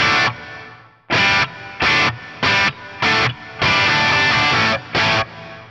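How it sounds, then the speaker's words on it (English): Distorted electric guitar chords are played through a Free the Tone Ambi Space pedal on its room reverb with maximum pre-delay, loud, choppy bursts separated by short gaps, with a diffuse slapback-like tail after each hit. "That's kind of a cool effect, almost like a diffuse slapback."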